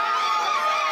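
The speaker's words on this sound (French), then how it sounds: "Sous vos applaudissements, s'il vous plaît" Guests at a tenth birthday party cheer and shout together, a dense mix of high children's voices and clapping at a steady loud level, briefly heard.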